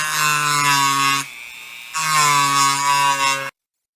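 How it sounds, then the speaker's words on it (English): A high, whining rotary grinder cuts a polymer T91 handguard with a harsh rasp in two bursts, separated by a short pause, loud and close, then stops abruptly. "I'm just going to do this with this grinder."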